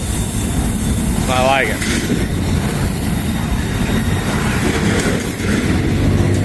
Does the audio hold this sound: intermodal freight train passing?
yes